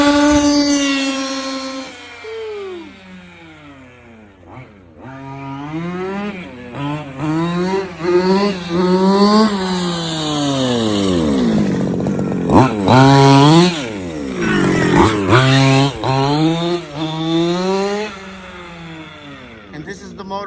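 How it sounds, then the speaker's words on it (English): Modified Zenoah G320RC gas engine in a Losi 5ive T 2.0 RC truck, loud and near, revving up and down in repeated rising and falling bursts with a raspy two-stroke buzz, a few sharp blips between longer pulls. "this is the motor, the G320RC that I modified"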